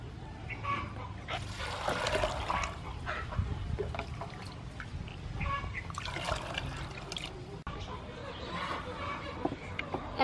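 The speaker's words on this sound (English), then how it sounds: "and add some water." Water trickles and pours into a cooking pot of black-eyed peas for a sweet rice porridge, a steady splashing flow lasting several seconds with faint kitchen clatter and some talk alongside.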